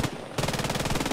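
An enemy machine gun in Post Scriptum, a WWII shooter, fires a loud, rapid, even burst of rounds right after a single shot, close and dominant with no talk.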